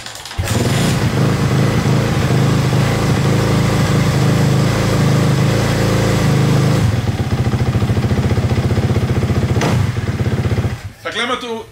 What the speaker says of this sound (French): Fait que la moto démarre bien.